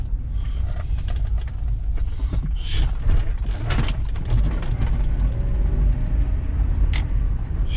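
A 2005 Ford Explorer engine runs under full power, a steady loud rumble with road and wind noise, scattered clunks and rattles, and no voices.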